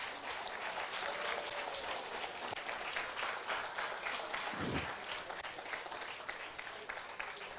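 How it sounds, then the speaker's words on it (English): Audience applause after a devotional folk theatre drama performance, a steady wash of many hands clapping, continuous and fairly distant, holding evenly for several seconds. "A round of applause for them,"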